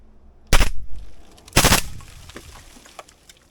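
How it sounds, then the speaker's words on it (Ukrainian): A rifle fitted with a Steel suppressor fires in automatic mode. Two short, loud, close bursts ring out about a second apart, each trailing into a fading outdoor echo. "Автоматичний режим, невеличка коротенька черга."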